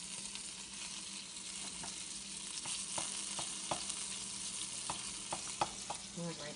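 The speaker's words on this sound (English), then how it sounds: "There's butter melting." Butter melts in a hot pan with a soft, steady frying hiss and scattered small pops and clicks. The sound is fairly faint and close, with no voices.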